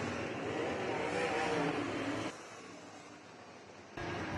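Race cars run down the backstretch at Merritt Speedway, making a steady, dense engine roar that drops suddenly to a quieter drone partway through, then swells again near the end.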